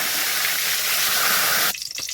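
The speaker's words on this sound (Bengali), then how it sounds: "এখানে দিয়ে দিচ্ছি আমি মিঠা আতর, দিয়ে দিচ্ছি গোলাপ জল" Rose water and mitha attar are poured into a pot of hilsa biryani with the heat switched off, a continuous close splashing trickle that stops abruptly near the end, leaving faint drips and rustles.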